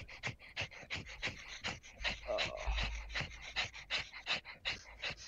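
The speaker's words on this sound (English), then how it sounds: "Heavy breathing in here." Heavy, rhythmic breathing in a GTA roleplay game, quick panting bursts repeating close and steady throughout, with no talk over it.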